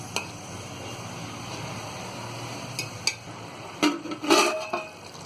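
Mutton korma being stirred and roasted in a pot on a high flame: a spoon clinks and scrapes against the metal a few times over a low, steady cooking hiss.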